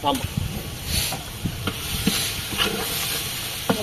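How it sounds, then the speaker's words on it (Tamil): Onions sautéing in a pan for Ranipet-style chicken biryani, with a steady sizzle and hiss broken by several sharp stirring scrapes and clinks, close and moderately loud. "வெங்காயம் பாருங்க நல்லா வதங்கிச்சு"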